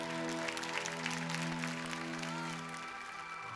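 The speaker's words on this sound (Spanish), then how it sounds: "Un aplauso de todo el estudio para vos, Norma." Studio audience on a televised dance competition show claps in a sustained wash of applause that tapers slightly toward the end, heard at moderate distance beneath a steady tonal background.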